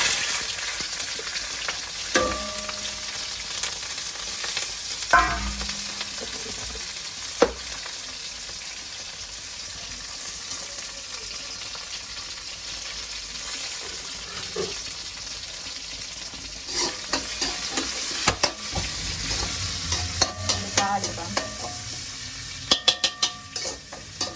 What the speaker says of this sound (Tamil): வெந்த எண்ணெய் அந்த உள்ளி பச்சை மிளகா வெங்காயம் கருவேப்பிலை எல்லாம் போடுவோம்